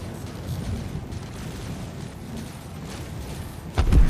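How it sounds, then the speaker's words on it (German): An explosion in the space game Star Citizen: a low, rumbling background holds steady before a sudden, heavy boom bursts in near the end. "was ist denn da gerade explodiert?"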